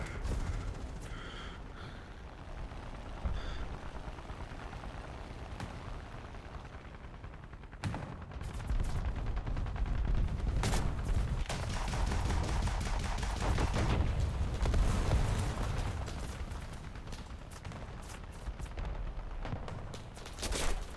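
Tank cannon and gunfire in War Thunder: a long stretch of heavy battle noise with sharp firing bursts and rumbling blasts, a sudden loud shot partway through, then sustained dense shooting.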